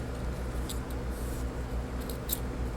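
Scissors snip through an old T-shirt in a few quick, close cuts over a steady low room hum, with no talking.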